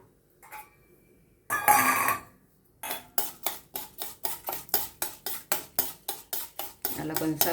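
Urad dal being dry-roasted in a pan: after a short burst of rattling, a spatula scrapes in a quick regular rhythm of about sixteen sharp, close strokes, grains rustling against the metal, ending in a denser rattle.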